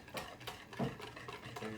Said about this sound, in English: You also need half a cup of melted butter. Whisk that in as well.